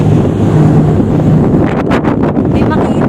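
Strong wind roars across the open upper deck of the cruise ship Carnival Liberty at sea, a loud, constant buffeting rush close to the microphone.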